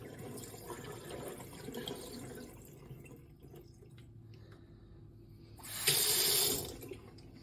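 Dirty water trickles and drips faintly from a Shark HydroVac floor cleaner's tank, then a brief loud gush pours out near the end before tapering off.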